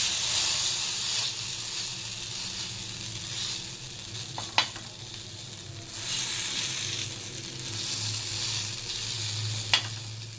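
Matki chilla batter sizzles in an oiled pan, a steady loud hiss that swells and eases in waves, with a couple of sharp clicks from a spoon or utensil.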